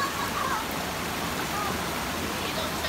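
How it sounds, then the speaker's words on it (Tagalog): Very cold running water flowing down from upstream, a steady, loud, broadband rush of water with no break, filling the whole scene close by. "Running water."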